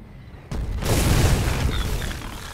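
A single deep artillery blast in the war game Foxhole booms suddenly after brief quiet, its heavy rumbling roar filling the rest of the moment before fading slightly.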